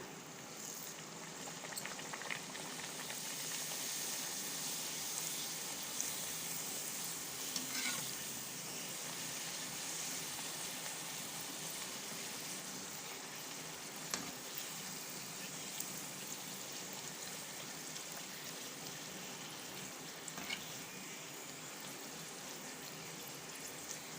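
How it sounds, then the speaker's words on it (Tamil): A sweet banana puri deep-fries in oil, giving a dense, continuous bubbling sizzle that stays fairly even throughout with a few faint clicks of a utensil. "இதே மாதிரி நம்ம ஒரு பூரியாக சுட்டு எடுத்துக்கலாம்"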